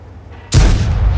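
A single loud, close tank cannon shot in World of Tanks booms abruptly after a quiet lead-in, then rumbles and decays over the following second.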